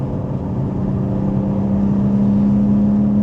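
A BMW G82 M4 engine drones steadily from inside the cabin while driving smoothly, a low, even hum with a sustained tone that builds slightly toward the end.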